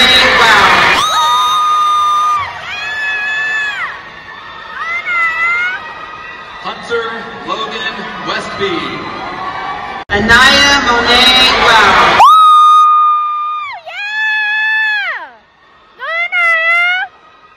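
A crowd cheers at a graduation ceremony with loud, high-pitched whoops and shouts that come in bursts and stop between them. Scattered voices and noise from the crowd sit underneath.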